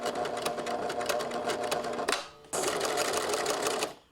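A sewing machine runs a short stitch length on a collar, whirring steadily forward, pausing briefly, then running again for the backstitch, close and clear.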